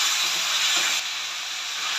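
Onions frying in a pan for Andhra gongura pappu, a steady broad sizzling hiss without pauses, close and fairly loud, with no talking.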